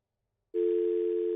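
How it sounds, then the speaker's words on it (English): A steady telephone dial tone on a radio call-in line starts abruptly after a moment of silence and holds as a clean, continuous hum to the end. "That sounds like a dial tone to me."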